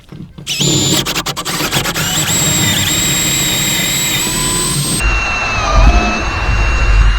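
A power drill whines loudly and continuously up close, its pitch shifting midway as it bores through a window frame to fit a trickle vent.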